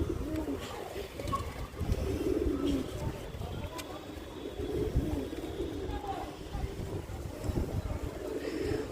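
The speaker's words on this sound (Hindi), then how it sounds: "ये कबूतर जो है बिल्कुल भी मेरे से डर भी नहीं रहा था" A pigeon coos softly against steady outdoor background noise, with some faint talk and rustling around it.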